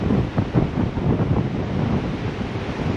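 A mountain river near Sissu rushing in a steady broadband roar, with gusty wind buffeting the microphone on top, loud and continuous with no speech.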